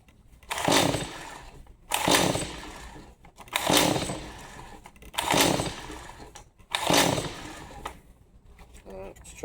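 A Stihl MS 180 C chainsaw being pull-started with the choke on: four or five loud rasping cord pulls in a regular rhythm, each a short burst of cranking, with no sign of the engine catching.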